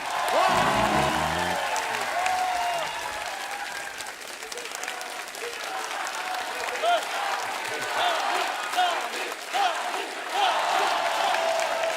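Loud, sustained applause from a studio audience on a Hindi comedy talk show greets the superstar guest Sunny Paaji, a dense wash of clapping with crowd noise throughout and a brief low thump near the start.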